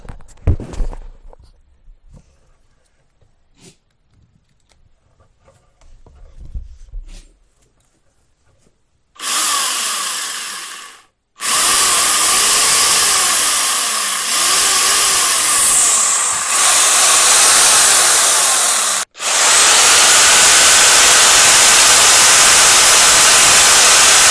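A Kentavr electric chainsaw starts with a short burst, then runs in loud, steady high-pitched whirring stretches, broken by a brief pause and a momentary dropout.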